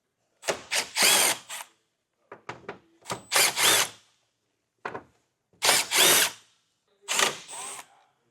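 A power drill backs out 5.5mm screws during installation of a Roadmaster Direct-Connect base plate kit on a 2018 Ford, sounding in short close whirring bursts separated by silent pauses, with no voices.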